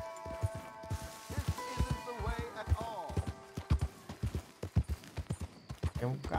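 Rhythmic hoofbeats of a horse in Red Dead Redemption 2 clip-clop steadily at a walking pace, each strike distinct, under game music tones and voices talking.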